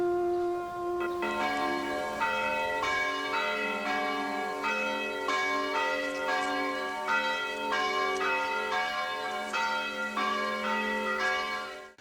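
Village church bells ring in steady repeated strokes, with overlapping tones building into a clear, resonant peal that carries throughout and fades at the end, heard alone with no voices.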